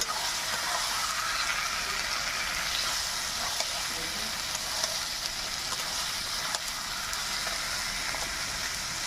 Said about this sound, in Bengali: কেটে রাখা মাংসটা দিয়ে দেবো, দিয়ে আর একটু ভালো করে কষে নেব।